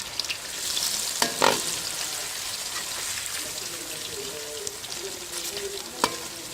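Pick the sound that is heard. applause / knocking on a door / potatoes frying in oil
potatoes frying in oil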